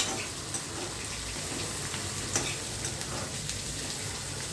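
Bitter gourd pieces frying in a pan for a tamarind curry, a continuous close sizzle with occasional light scrapes and taps of a stirring spoon.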